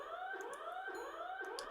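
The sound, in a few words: facility alarms blaring in SCP dating video game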